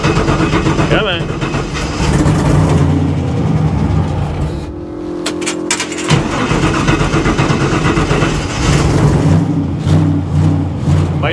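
A 1957 Chevy hot rod engine cranks and catches, settling into a loud, rough running rumble with a brief dip midway, while people talk nearby throughout.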